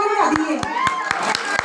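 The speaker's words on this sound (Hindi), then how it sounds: "भोले भोले की फरमाइश और ताली बजा दिए" Rhythmic hand claps from the audience at a devotional jagran for Durga Maiya, evenly spaced sharp beats under a voice speaking and music-like tones in the background.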